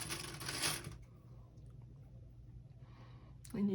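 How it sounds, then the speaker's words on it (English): Sewing clips snap onto fabric to hold a zipper in place for a Christmas pouch, giving a quick cluster of crisp clicks at the start and another close click at the end, with quiet between. "And you can just go ahead and clip your zipper into place."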